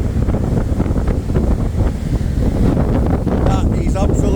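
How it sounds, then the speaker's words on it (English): Strong, steady 80 mph Storm Darragh wind gusts roar and buffet the microphone throughout in the Lake District, with a voice speaking underneath and brief whistling tones near the end. "I didn't realise how bad these wind gusts were, to be fair, until I got off the bike."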